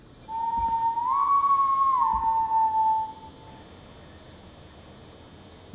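A single sustained whistled tone inside the horror comedy game Killer Frequency, rising briefly and holding for about three seconds over a quiet hiss.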